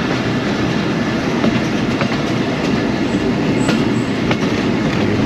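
A train runs on a single-track railway loop line beside Kala Gujran station on the Lahore to Rawalpindi route, giving a loud, steady roar of wheels and carriages with faint clicks and a brief high squeal, with no voices.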